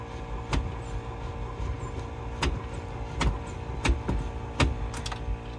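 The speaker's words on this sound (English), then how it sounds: "It's turning over, but it doesn't want to seem to fire" An old carbureted car engine is cranked but won't fire, giving a low churning starter drone broken by several sharp clicks and clunks.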